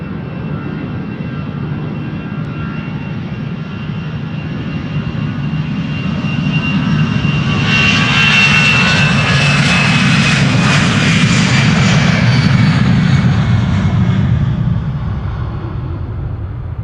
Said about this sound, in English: Here is Emirates Flight 147. Arriving from Dubai.